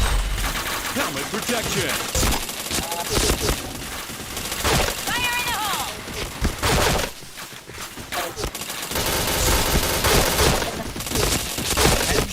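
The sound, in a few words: gunfire in a shooter video game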